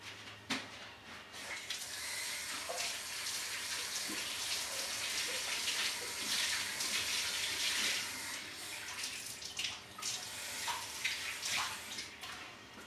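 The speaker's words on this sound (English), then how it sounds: "after washing my hands" Water runs from a tap as hands are washed, a steady splashing gush close by with small shifts and drips, no talk over it.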